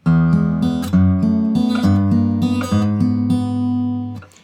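A short blues guitar run of quick picked notes climbing in small steps, played alone and ringing out at the end.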